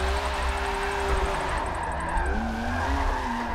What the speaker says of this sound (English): So we are gonna try and drift this whole track.